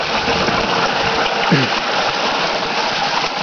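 Water runs down the cascade of a model water mill beside a pond, a steady, close rushing wash with a brief gurgle partway through.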